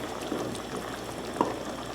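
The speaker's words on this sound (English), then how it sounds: "The water's boiling pretty good." Pot of water boiling for rigatoni pasta, a soft, continuous bubbling and gurgling at close range with one brief louder blip, and no voices.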